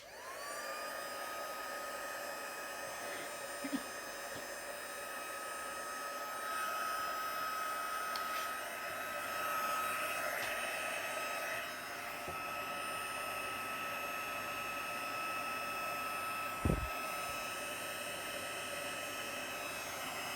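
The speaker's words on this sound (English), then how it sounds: "I'll just get it heated up a bit, and then we'll emboss our sentiment." A heat embossing tool blows hot air in a long, steady whooshing roar, close and continuous, with a couple of faint knocks along the way.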